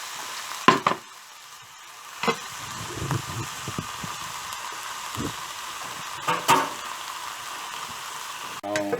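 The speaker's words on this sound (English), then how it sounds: "So once this is fried for about 2 minutes, then I'll add the tomatoes, 2 tomatoes, chopped tomatoes." Chopped tomatoes fry in a spicy masala in a pan, with a soft steady sizzle and a few scattered scrapes and clanks of stirring.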